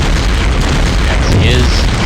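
Loud, dense booming of artillery fire in the wargame SP:WaW fills the short stretch, with a heavy rumbling blast throughout and a voice briefly present.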